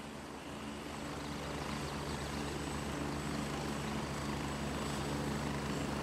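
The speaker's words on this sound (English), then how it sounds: "We're getting picked up by a chopper here soon." A helicopter arrives for a pickup in Gray Zone Warfare, a loud, continuous rotor and engine drone with steady low thumping, close and unbroken for several seconds with no talk.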